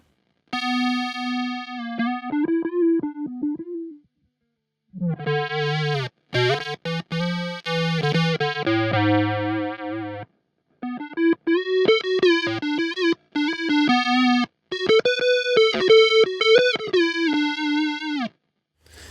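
An electric guitar runs through a Meris Enzo synth pedal with its filter engaged, giving buzzy, synth-like sustained notes and short melodic phrases separated by brief silences, loud and close with no voices.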